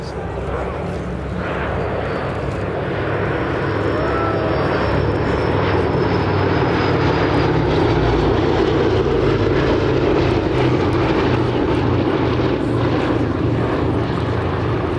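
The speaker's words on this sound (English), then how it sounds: "It is the only Flying Fortress still flying in Europe" Boeing B-17G Flying Fortress at an airshow, its four piston engines droning loud and steady throughout as it flies past nearby, with a sustained heavy roar.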